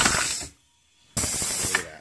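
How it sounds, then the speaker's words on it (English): Pneumatic can crusher rupturing a soda can, giving a loud hissing burst of soda spraying onto a towel, then a brief pause and a second spraying, splattering burst. "I'm going to hold up a towel to block it and we'll see the soda fly all over the towel."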